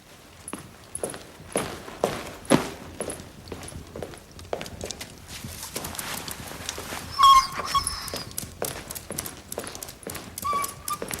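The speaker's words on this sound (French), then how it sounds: "Je ne veux pas de ce chien." A dog whimpers with brief high whines amid the clatter of hooves and footsteps in a medieval royal court, close and moderately loud, with no talking.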